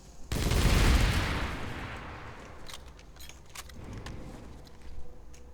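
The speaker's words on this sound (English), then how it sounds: "Rocket rifle." A rocket rifle firing in the game Planetside 2: one loud blast with a rushing burst that trails off over a couple of seconds, then scattered distant gunfire and clatter.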